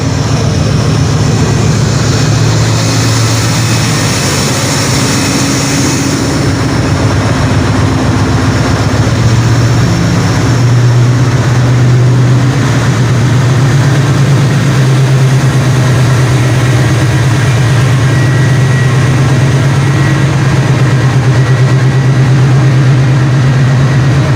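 An American GE U40 diesel locomotive of 4500 horsepower in Pakistan Railways service revs while standing still with no traction, a loud, steady low engine drone with harmonic hum that swells slightly in pitch partway through and continues throughout.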